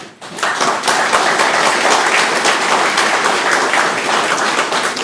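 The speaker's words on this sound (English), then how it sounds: "Tonight, on behalf of a grateful territory, we applaud your hard work and your commitment." A large audience at a State of the Territory address breaks into loud, sustained applause that holds steady for several seconds, dense and close, with no voices over it.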